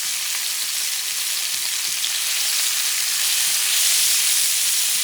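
Scallops browning in a hot frying pan, a loud, dense, even sizzle that continues throughout and swells slightly toward the end.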